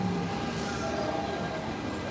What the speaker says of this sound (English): And here comes this old model of a train